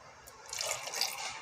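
Water poured into a BlendJet 2 travel blender jar over apples, a sweet potato piece and fruit, a short splashing fill that swells and stays steady, alone without talk.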